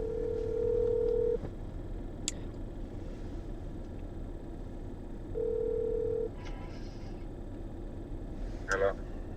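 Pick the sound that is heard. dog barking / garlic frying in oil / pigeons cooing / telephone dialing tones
telephone dialing tones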